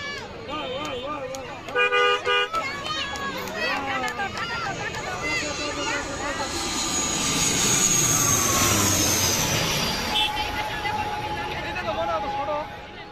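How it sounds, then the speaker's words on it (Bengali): An Air Astra ATR turboprop airliner's engine drone swells as it approaches to land, peaking near the end, with voices of plane-watching spectators talking underneath. "এগিয়ে আসছে এটিআর মডেলের এয়ার স্টার এয়ারলাইন্সের বিমান অবতরণের জন্য"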